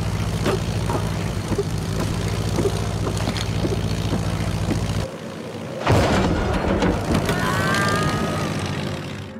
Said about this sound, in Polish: Niemożliwe! To samolot gadżeta!